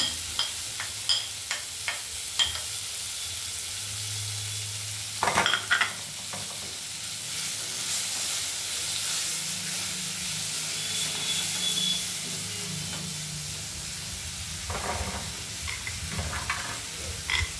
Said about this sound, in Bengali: ভাজতে ভাজতে মা দিয়ে দেবে হলুদ